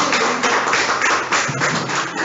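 A church congregation claps together in a dense, steady wash of hand strikes, loud and close, with faint low tones humming beneath.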